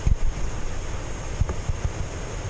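Water pours out below the Red Rock Reservoir dam as a continuous rushing roar, heavily buffeted by low wind thumps against the microphone, with no voices.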